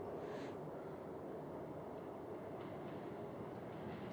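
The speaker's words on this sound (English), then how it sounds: "That's a real subway car." Steady rumbling train noise from a real subway car in Charade (1963), a dense continuous roar of wheels and carriage with no clear individual clacks, loud and unbroken throughout.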